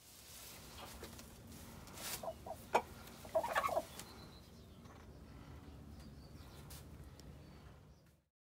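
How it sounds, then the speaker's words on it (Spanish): Soft, scattered clucking from three hens and a rooster over a low steady background hum, with a short burst of louder clucks near the middle. "Solamente tenemos nosotras en esta familia tres gallinas y un gallo."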